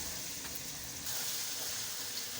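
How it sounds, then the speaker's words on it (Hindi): Masala for Lahori chana frying in a pan, a faint, steady sizzle with soft crackling that continues evenly throughout, with no voices. "ये हमारा अच्छी तरीके से मसाला फ्राई हो चुका है।"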